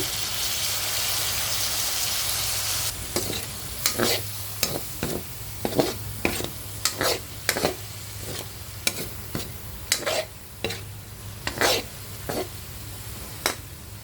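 Adobong sitaw, string beans frying with garlic and onion, hisses steadily in a pan, then a spatula stirs it with a run of sharp, irregular scrapes and clacks over the quieter sizzle, close and clear, with no talking.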